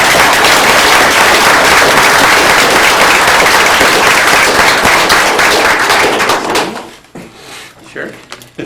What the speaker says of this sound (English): I would ask that you give them a strong round of applause.